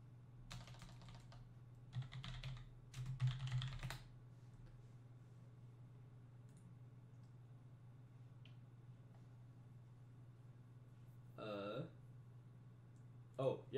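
Bursts of clicky typing on a new computer keyboard come in short clusters, then long pauses, with a steady low electrical hum beneath and a soft voice briefly in the background.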